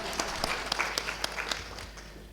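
Faint, scattered hand claps from a school audience break out briefly at a Holi celebration in a Noida school, with no voices over them.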